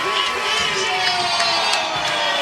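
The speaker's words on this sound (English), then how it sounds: "Oh, listen to that applause." A crowd of Eagles fans at a St. Patrick's event in Scranton cheers and applauds loudly and continuously, with whoops and shouts rising over a dense wash of clapping.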